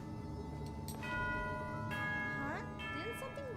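A bell rings in the video game Genshin Impact, several bright sustained tones layered over soft game music, fairly quiet and mid-distance, with rising chime-like sweeps near the end.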